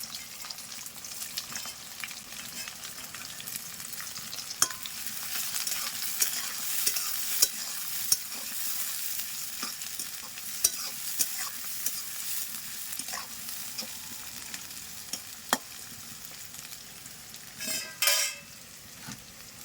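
Chopped onion and green chilli fry with potatoes in a pan for chicken kosha, a steady sizzle broken by repeated scrapes and clinks of a stirring spoon, with occasional louder knocks.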